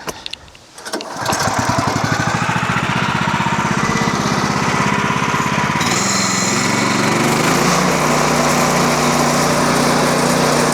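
Small gasoline engine on a Woodland Mills HM126 sawmill starts and runs steadily and loud after a throttle adjustment, its pitch stepping up partway through and holding a high, even drone, with no talking.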